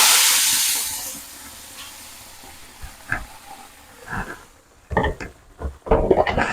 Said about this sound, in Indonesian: ini minyaknya udah panas, masukkan bumbu yang udah kita blender